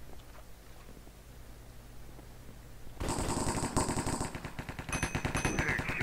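Rapid M4 rifle fire in the Hypixel Cops and Crims game: after a quiet stretch, a loud burst of dense automatic shots crackles for about three seconds, followed by further scattered reports and game effects.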